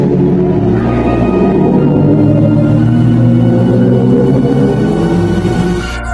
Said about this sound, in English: And the sound of a black hole.